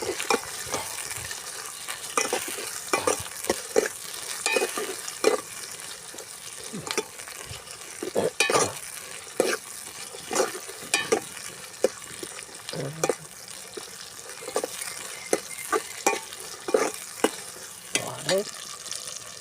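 Vegetables with curry leaves sautéing in a pan for a raw banana and pea kurma, a steady close sizzle broken by frequent scraping stirs of the spoon throughout, with no talking.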